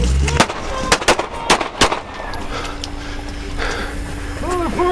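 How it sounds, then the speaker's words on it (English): Rapid gunshots ring out during a police traffic stop, several sharp close cracks in a quick burst over the first two seconds, followed by ongoing commotion and faint voices with a steady tone in the background. "216 shots fired."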